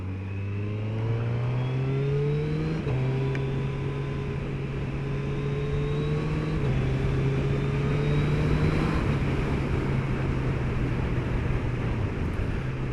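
A 2021 Suzuki Hayabusa motorcycle engine pulls hard on an open road, its steady rising drone climbing through gear changes around three, seven and nine seconds, loud and close with wind rush throughout.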